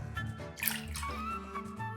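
A finger dips into a bowl of water sprinkled with pepper flakes, giving a soft watery plop with small drips, close up and alone.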